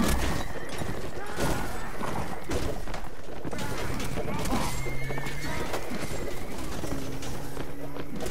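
Horses neighing and whinnying in the video game Mount & Blade Warband, mixed with hoofbeats, bird coos and dense battle noise, with a voice talking over it.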